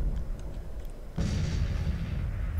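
Artillery fire in the strategy game Grand Tactician: Civil War, a heavy booming blast that breaks over a constant low battlefield rumble, loud and full, with no voices.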